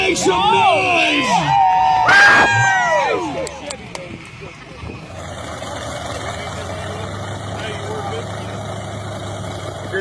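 A crowd at a monster truck event bursts into cheers, whistles and whoops for a few seconds, then dies down as a big truck engine idles steadily underneath.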